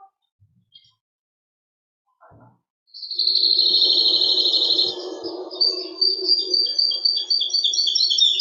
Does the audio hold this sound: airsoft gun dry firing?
no